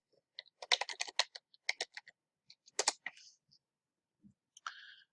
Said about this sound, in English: I type Stones for the folder, and then I type index.html